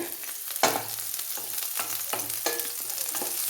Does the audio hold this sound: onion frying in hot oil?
yes